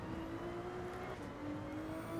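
Race cars in Gran Turismo 7 drone steadily on a narrow track, engine tones humming evenly with a slight pitch shift midway, fairly quiet with no talking.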